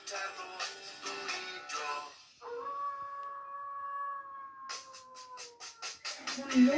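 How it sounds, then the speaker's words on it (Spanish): A wolf gives one long, steady, tonal howl that holds for several seconds, framed by bright tonal tones before and after it. "Un lobo."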